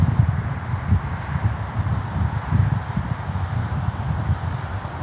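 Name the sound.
wind at LaGuardia airport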